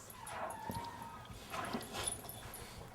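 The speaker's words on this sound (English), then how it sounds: "He's a good dog." A dog whimpers and yips softly indoors, thin high whines and a few short yelps spread over a few seconds, quiet and close with faint room noise and jingling.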